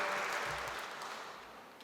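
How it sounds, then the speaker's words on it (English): Lecture audience applauding, a dense wash of clapping that starts full and slowly fades over about two seconds. "I hope you will applaud for this."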